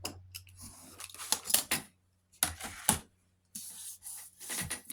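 Dull scissors cutting through craft material in several crisp, rasping snips and bursts, close and fairly quiet, separated by short silent pauses; no one talks.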